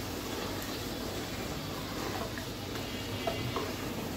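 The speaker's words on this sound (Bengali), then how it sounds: "ডাঁটা আর এই চিংড়ি মাছগুলো একটু ভেজে নিচ্ছি" Vegetable stems and shrimp fry in a pan, a quiet, even sizzle that holds steady throughout, with a couple of faint utensil clicks near the end.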